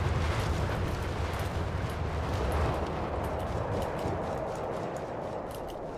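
Battle explosions in the World War II strategy game Company of Heroes 3 merge into a dense, continuous rumbling roar with crackling debris, loud throughout and fading slightly toward the end, with no voices.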